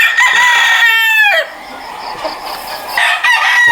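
A pure Sweater gamecock rooster at a game farm in Batangas crows loudly and close by, one full crow followed by quieter clucking and a second, shorter crow starting at the end.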